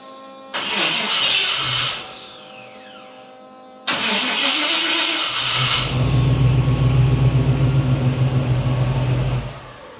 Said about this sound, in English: I wonder if that noise is the starter not disengaging.